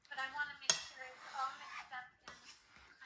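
Flour and baking powder stirred together in a bowl, with close utensil scraping and a sharp clink against the bowl, faint and brief.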